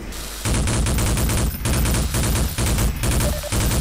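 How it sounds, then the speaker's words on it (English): A flare gun fires repeatedly in a Half-Life 2 beta mod video game, with loud, dense bursts of shots that come in sustained blasts broken by brief gaps, close and harsh, with no talking. "I hit the flare gun and I win"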